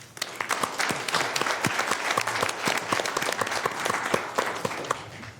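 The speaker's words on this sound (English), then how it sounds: "I would like to just say one final clap for everybody." Applause closing a Sacramento Area Sewer District board meeting: a modest group clapping close by, individual claps distinct and irregular, building quickly then tapering off after several seconds.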